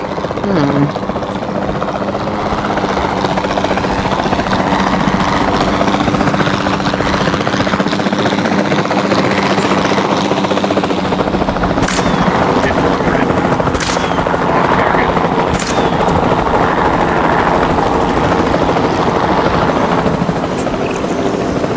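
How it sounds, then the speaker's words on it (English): Capture team helicopter in the video game Jurassic World Evolution 2, its steady rotor drone and whine loud and continuous throughout, with sharp in-game clicks and effects popping over it and some talk underneath. "Then the sensible thing is to take a capture team helicopter."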